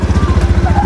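A motorcycle engine idles with a steady, throbbing low pulse, close and fairly loud, on a first ride of a borrowed bike in Sagada, Mountain Province.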